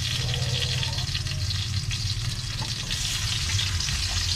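Onions frying in hot oil in a pan, a loud, dense, continuous sizzle heard close up for several seconds with no voices over it.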